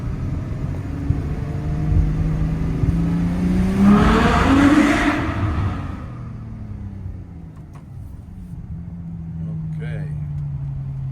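A Ferrari F12 V12 revs and pulls on a road drive, a loud close engine note swelling to a peak and then easing to a steady lower drone, with talk over it.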